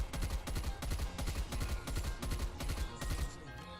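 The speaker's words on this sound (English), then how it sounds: "So this is the gunfight KSP maxed out attachments without controlling recoil." A KSP gun with maxed-out attachments fired in a video game, a sustained fast automatic burst of about a dozen evenly spaced shots, close and punchy, with no talk.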